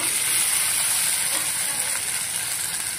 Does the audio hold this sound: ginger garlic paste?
yes